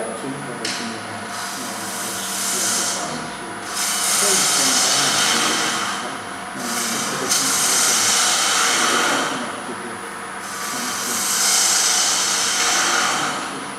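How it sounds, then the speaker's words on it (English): A small wood lathe spins up while a 1/4 inch ball gouge cuts the turning, giving a whirring motor whine with rising and falling bursts of rough scraping hiss as the tool engages the wood. "So I'm just going to use a 1/4 inch ball gouge. We can get some speed on here now."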